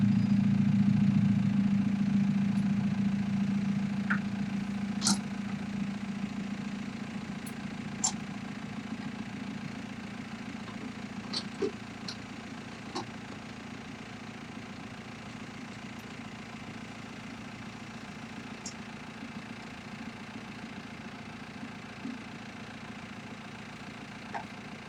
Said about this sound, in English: Get the tractor back up.